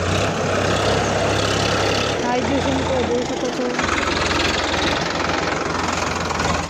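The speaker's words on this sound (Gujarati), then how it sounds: "જોઈ લો હવે ટ્રેક્ટર બાર આવી જશે" A tractor engine runs steadily with a low, chugging knock as it comes out of a paddy field where rice seedlings are being transplanted, loud and close throughout while someone talks over it.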